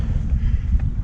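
Gusty wind buffets a heeling sailboat, producing a steady low roar of wind against the microphone with rumbling surges throughout.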